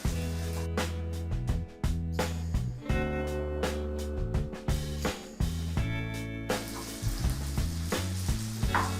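Soaked sago and peanut mixture with turmeric and potato stirred and fried in a pan, giving a steady loud sizzle broken by regular scraping strokes of a spoon, over a constant low hum.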